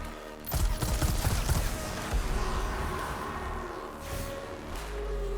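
Gunfire in the video game Warhammer 40,000 Mechanicus comes as a dense, rattling burst of shots followed by a lingering rumble and a second, weaker volley, loud and alone without talk.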